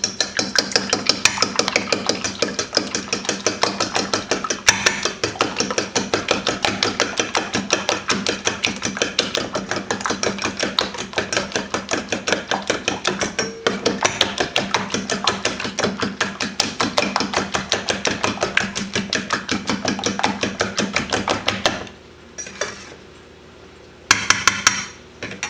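Eggs are whisked briskly in a bowl, giving a long run of rapid, even metallic clicks up close that stops near the end, followed by a few scattered knocks.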